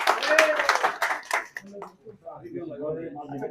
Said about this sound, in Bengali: তাদের জন্য প্লিজ স্পেশাল একটা করতালি হয়ে যাক